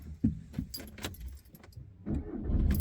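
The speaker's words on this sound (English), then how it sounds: "Car fires up very nicely" Audi A3 2.0 TDI diesel hatchback with manual gearbox starting up, a short crank followed by a low, steady idle rumble, with a jangle of keys at the start.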